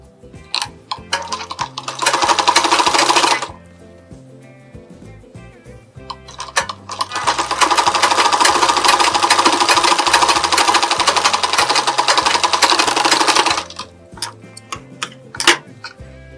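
A sewing machine stitches the folded lining of a blouse in two long running bursts, a fast rhythmic mechanical clatter, with quieter ticking handling noises between and after the runs.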